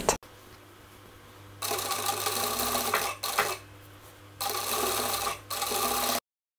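A sewing machine stitches a polo shirt, running in three sustained bursts of steady whirring separated by short pauses, close and clear with no talk.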